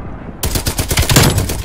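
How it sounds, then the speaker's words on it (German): Rapid, loud M60 machine gun bursts from the Black Ops video game, starting abruptly after a brief silence and rattling on in a dense, close, continuous stream. "Die M60 ist wirklich mit Abstand die ekligste Waffe, die es gibt hier in dem Spiel."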